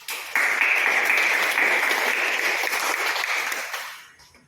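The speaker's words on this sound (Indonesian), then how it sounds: "Oke, tepuk tangan." Pupils in a classroom clap together on the teacher's cue, a dense burst of many hands that stays steady for several seconds and then tapers off, with a faint voice in the background.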